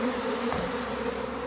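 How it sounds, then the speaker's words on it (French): A swarm of honeybees gathered in a cloud outdoors hums in a steady, dense drone that holds level throughout, with no voices over it. "il y a beaucoup d'abeilles"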